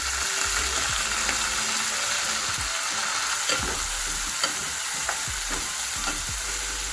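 Green chillies and onions frying in hot oil in a pan for a prawn and tamarind-leaf curry, a steady close sizzle with occasional stirring scrapes and taps, no voices.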